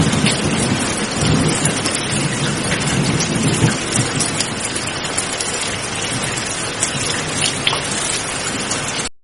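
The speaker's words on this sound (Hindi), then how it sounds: "रात को बारिश फिर से जोरों से होती है" Heavy rain pours steadily at night with thunder rumbling through it, a dense, loud, continuous downpour that cuts off abruptly at the end.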